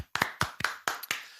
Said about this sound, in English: Another round of applause for Hydrotops.